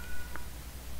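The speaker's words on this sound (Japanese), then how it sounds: "他の猫の声もするね。" A faint, thin cat meow sounds briefly over a low background hum in the Japanese horror game Tsugunohi: Nekonohi Kaikitan.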